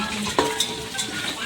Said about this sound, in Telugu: కొంచెం వేయించుకొని కలుపుకుంటున్నా మంచిగా అన్నీ కలిసేటట్టు